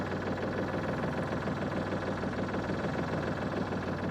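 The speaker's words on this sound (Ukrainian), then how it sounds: "Заводиться трактор з пів оберта, працює справно." A Mitsubishi MTM250 Japanese mini tractor's engine running steadily after starting, a continuous even diesel chug with dense low rhythmic pulses and no voices.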